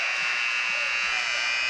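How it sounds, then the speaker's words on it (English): A loud, steady electronic buzzer sounds at a high school boys' varsity basketball game, droning continuously without a break. "Alex Dykes at the buzzer."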